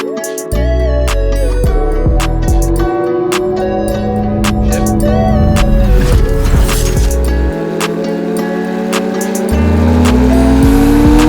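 Porsche 997.2 GT3 with Mezger engine and 991 GT3 with 9A1 engine, loud close-up exhaust with rising revs and shifting engine tones, a rev sweep climbing near the end, no voices.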